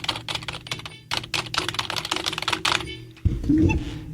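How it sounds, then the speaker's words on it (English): Fast, close clicking of a computer keyboard being typed on, with quick irregular runs of keystrokes and short pauses, followed at the end by a louder low thump. "I'm going to bend the thing down so you can hear me typing."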